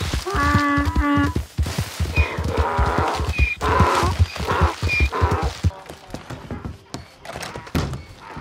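Horse or donkey hooves clop in quick thuds alongside a short whinny in a Red Dead Online western role-play game, with game effects and people talking over the top.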